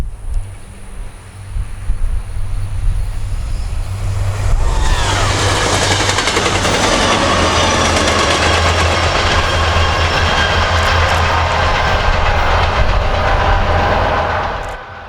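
Florida Midland Railroad train 327, a doubleheader with a mechanical issue, heading south. Wind buffets at first, then a loud, close rumble of locomotives and clattering wagons swells in and holds steady.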